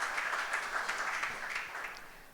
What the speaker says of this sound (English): maybe we could just give her a round of applause if Vikas is not around